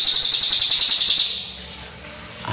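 Young white-rumped shama (murai batu) at a songbird contest setting sings a rapid, rhythmic run of bright, close whistled notes for over a second, then softer high calls and faint chatter follow.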